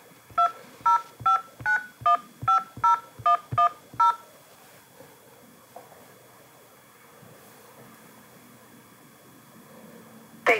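Touch-tone keypad beeps as a 10-digit phone number is keyed into an automated customer-service line: about ten crisp, evenly spaced tones in quick succession, then a quiet, faintly hissing line.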